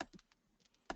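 Soft, close computer keyboard typing, a handful of quick light key clicks spread unevenly across a second, ending with a firmer keystroke.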